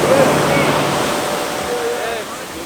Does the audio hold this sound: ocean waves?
yes